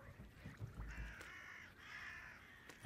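Geese in the hunting video game Hunter's Trophy 2: America give a few faint, drawn-out honking calls from a distance over quiet ambience, ending on a sudden louder thump.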